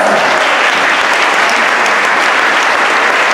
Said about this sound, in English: And now make a round of applause for your Stingrays girls.